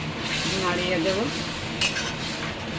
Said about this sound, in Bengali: আমি দুধ দিয়ে দিয়েছি, একটু নাড়িয়ে দেব।